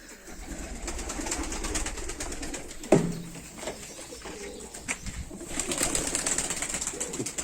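Hünkari pigeons and their young coo in a loft, soft low murmuring coos layered together nearby, broken by a sharp flutter or knock of wings midway and brief rustling.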